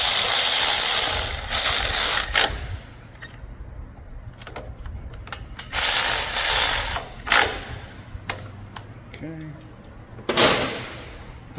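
Ratchet wrench tightening engine bolts, an 8 mm bolt with a 14 mm head, in bursts of rapid clicking loud and close, separated by quieter gaps with faint handling noises.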